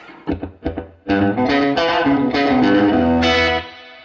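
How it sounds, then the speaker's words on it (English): Telecaster bridge pickup played through an MXR Echoplex delay set for Memphis-style slapback with added reverb: a few sharp plucked notes, then loud sustained, slightly driven chords with short echoes ringing on, close and alone. "see if we can get really like a super Memphis style slapback here on the bridge pickup of the Telecaster"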